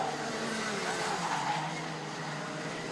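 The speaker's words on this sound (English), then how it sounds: "There's a lot of tyre scrubbing in towards turn number 1 to some of these cars." Racing karts in the Junior X30 class at Nutts Corner Kart Circuit scrub their tyres into turn one, a steady loud blend of engine drone and rubbing tyre noise with no pauses.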